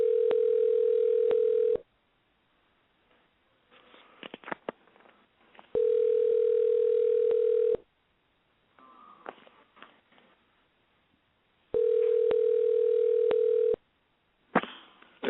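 A telephone call to a talk radio show rings out unanswered: three loud, steady ring bursts of about two seconds each, separated by quieter gaps with faint clicks and handling noise.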